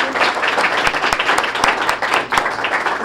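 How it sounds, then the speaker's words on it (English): A school audience applauding a student of the month and her family, a dense steady patter of many hands at close range, with a few louder claps standing out. "Let's give them a great round of applause."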